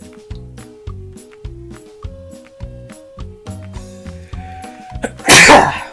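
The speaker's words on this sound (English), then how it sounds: "I'm going to sneeze." A single loud, sharp sneeze bursts out near the end, following a steady, repetitive electronic Terraria game melody that plays throughout.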